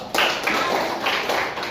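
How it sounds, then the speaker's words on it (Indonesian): Classmates in a school arts class clap for a presenting student group, a dense, steady patter of many hands at close range. "tepuk tangan dulu untuk kelompok 2"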